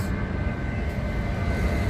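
An airplane flies overhead, a steady, broad roar with a continuous low rumble that holds evenly throughout, with no voices.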